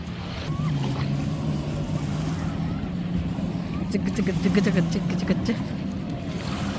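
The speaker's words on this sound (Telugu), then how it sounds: "అలలు వస్తున్నాయి మంచిగా" Sea waves washing onto a beach make a steady broad rush, with a low boat-like drone underneath and voices talking over it.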